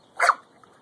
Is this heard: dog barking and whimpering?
yes